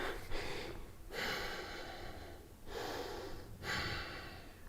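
Slow breathing during a deep yoga stretch, with three long airy exhales rising and fading in a loose rhythm, close and soft, no talk.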